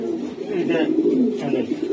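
Racer pigeons at a breeding farm give low, steady cooing throughout, close and continuous, with a faint voice in the background.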